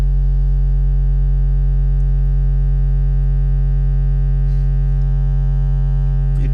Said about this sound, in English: It sounds like it's always adding a buzzing effect.